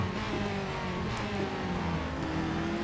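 A Mazda RT24-P race car engine in the Real Racing 3 video game drones steadily with a sustained, even pitch throughout, no talking over it.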